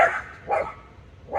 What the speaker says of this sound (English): The dogs are defending me from the neighborhood.